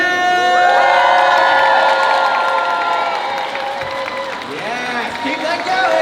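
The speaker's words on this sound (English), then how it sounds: "you whoop, you cheer, you make a lot of positive noise and send it our way" A Comic Con Antwerp 2019 audience welcomes guest Mark Williams with loud, sustained cheering, high whoops and whistles and some clapping, swelling at first and then easing slightly.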